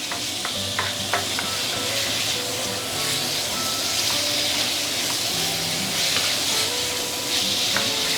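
Pork strips stir-fried in oil over medium-high heat give a steady, loud sizzle, with scattered clinks and scrapes of stirring running through it.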